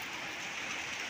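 Heavy, cold rain falls in a steady, even hiss, faint and distant, with no breaks over the short stretch.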